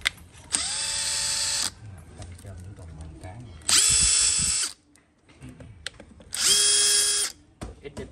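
A cordless impact driver whirs in three trigger pulls, each burst about a second long with short pauses between, loud and close, with some talk in the gaps.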